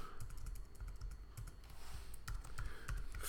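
Rapid typing on a computer keyboard, a steady run of close, crisp key clicks with a few heavier strokes, heard alone without talk.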